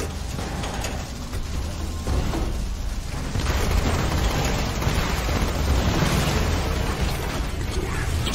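A grenade explosion in the video game Borderlands 2 during a fight with constructor robots: a loud, dense burst of blast noise and rumble that carries on for several seconds with mechanical clatter mixed in.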